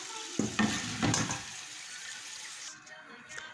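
Chak-chak dough pieces sizzle in hot oil while being stirred until golden; a burst of scraping and bubbling is followed by a softer, steady frying hiss.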